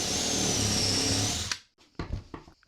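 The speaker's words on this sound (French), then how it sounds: "je mets le forêt sur ma visseuse et je viens percer" Cordless drill with a drill bit boring a hole, a steady whirring motor buzz for about a second and a half that stops abruptly, followed by a few short knocks and clicks.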